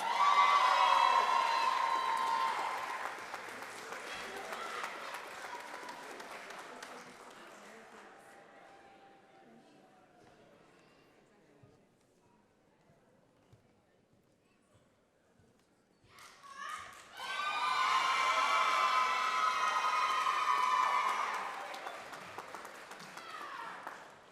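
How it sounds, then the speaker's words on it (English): A commencement crowd for the class of 2022 erupts in cheering and applause with shouting voices, fades into near silence, then bursts into loud cheering again partway through. "How about another round of applause for the class"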